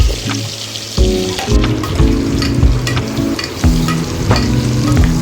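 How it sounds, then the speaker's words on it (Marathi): Eggplant pieces frying in hot oil with repeated stirring, loud close sizzling broken by rhythmic scraping and clattering of a spoon against the pan. "5 मिनिटं आपण तेलामध्ये छान वांग्यांना फ्राय करून घेऊया"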